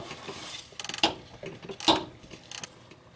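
Bolts being loosened and pulled from the shift linkage of a Subaru during transmission removal, heard as quick ratcheting clicks and short metallic clanks in bursts, close and fairly loud, with no speech.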